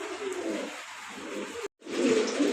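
Racing pigeons in a loft, with soft repeated cooing close by in two bursts separated by a brief cut to silence.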